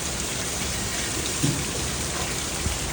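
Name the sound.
heavy rain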